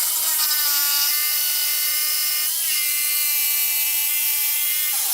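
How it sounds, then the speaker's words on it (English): Bandsaw cutting a block of padauk wood, a steady high whining cut with a brief dip in the middle, loud and close throughout. "I'm just gonna kind of cut a block out, and then I'll get the circle cut out on this bandsaw"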